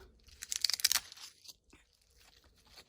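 A small knife carves into a doll with a quick burst of close, scratchy scraping strokes lasting about a second, followed by a few faint, sparse scrapes in near silence.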